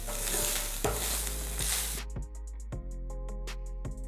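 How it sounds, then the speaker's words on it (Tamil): Grated coconut sizzles and crackles in a hot pan, a steady frying hiss with occasional scraping taps of a spoon stirring against the pan. "தேங்காவை நல்லா வந்து கொஞ்சம் தேங்காய் நல்லா வறுத்துக்கங்க."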